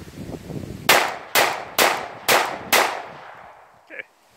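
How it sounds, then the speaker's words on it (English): Five sharp, loud pistol shots from an Ekol Volga fire at an even pace outdoors, each with a brief ringing decay, followed by a faint metallic clink. "Now let's shoot the rest of the ammo."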